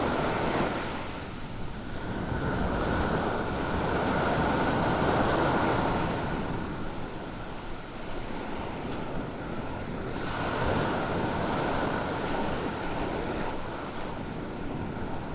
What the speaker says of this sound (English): to the sound of the waves.